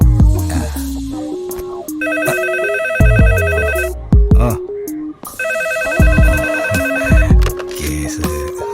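A telephone in a women's police station rings in a comedy film scene, sounding as loud repeated bursts of bright electronic tones, two long rings separated by a short gap, over background music.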